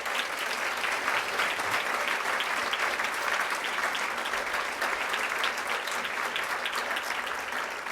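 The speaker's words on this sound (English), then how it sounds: "So could we just give them another round of applause?" Gala audience at a charity awards night applauds scholarship winners with steady, dense clapping that fills the room evenly from start to finish, without pauses.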